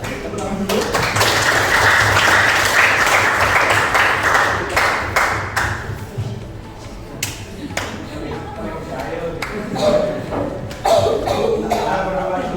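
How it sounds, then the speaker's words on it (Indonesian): Students in a classroom clap together, a burst of close, lively applause that thins into scattered claps and taps after about six seconds, with some voices and a cough around it. "Tepuk tangan dulu."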